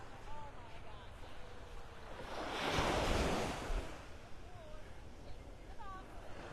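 Waves break on a North Naples, Florida beach. A soft continuous surf wash swells into a louder rushing break midway, with gusty wind buffeting the microphone throughout.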